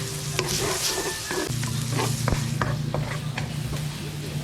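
Garlic frying in a hot pan, a steady loud sizzle with occasional stirring clicks and scrapes from a utensil, continuous and close.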